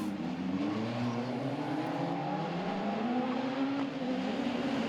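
Rallycross cars race at a Belgian RX event, including an Apollo, a Citroën DS3 and a Toyota Yaris, a continuous engine roar with rising and falling pitch and a hint of tire noise, heard steadily at a moderate distance.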